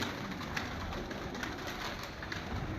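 Pigeon cooing softly amid steady outdoor background noise, with no clear individual calls standing out; the bird is a well-built, healthy-looking flying pigeon kept by a hobbyist in Kasur.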